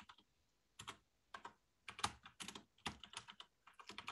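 Rapid typing on a computer keyboard comes in short, uneven bursts of close, crisp key clicks separated by brief pauses, with no voices.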